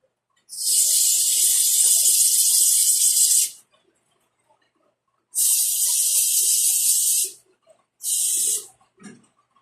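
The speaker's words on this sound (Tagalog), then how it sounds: "Spray po natin sa loob dito sa mga butas." Cleaner spray hisses into the holes of an engine part to clear carbon deposits, in three loud bursts: a long one, a shorter one, then a brief final squirt, with quiet gaps between them.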